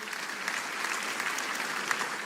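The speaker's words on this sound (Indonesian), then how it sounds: "Kita boleh sekali lagi tepuk tangan yang paling meriah bagi dia." A church congregation applauds, producing steady, dense clapping from many hands at a moderate distance, continuous and even throughout.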